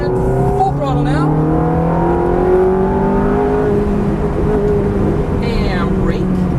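A Ferrari F430 at full throttle on a race track, its engine note climbing steadily in a loud, close, rising howl before dipping with a gear change, with a voice briefly heard over it.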